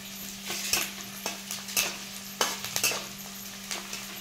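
Crumbled bhakri chivda is stir-fried in a pan, with soft sizzling under repeated scraping strokes of a spatula against the pan at an irregular rhythm, close by.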